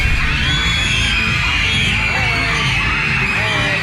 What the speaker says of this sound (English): they were screaming so loud that I'm shocked that they didn't lose their voices